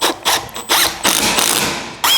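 Black screws driven into a drawer box for a 6th-generation Ford Bronco drawer system, heard as several short bursts of a power driver whirring and ratcheting, close and loud, with brief pauses between.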